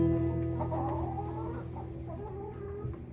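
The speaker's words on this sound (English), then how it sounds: "Grandpa Russ in the hen house with the Mona Jabber Cackle Choir and Henny Penny" Hens in a hen house cluck and cackle together in a steady, close chorus that holds through the whole stretch without any talk.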